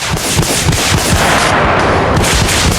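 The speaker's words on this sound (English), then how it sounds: "With this heli, you can choose to shoot one missile or multiple missiles at the same time." An attack helicopter fires missiles in the video game Arma Reforger, a dense loud barrage of repeated booming launches and rushing blasts overlapping continuously over a roaring engine bed.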